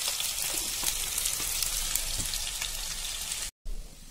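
Potato pieces frying in a pan with green chilies and salt, giving a steady close hiss and crackle of oil with scattered pops, no voices.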